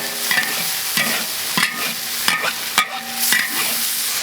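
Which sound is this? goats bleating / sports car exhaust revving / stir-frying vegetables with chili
stir-frying vegetables with chili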